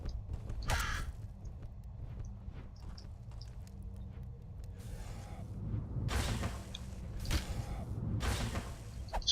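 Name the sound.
crow cawing in Legend of Grimrock video game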